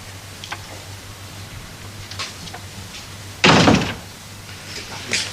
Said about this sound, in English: Do close the door, please.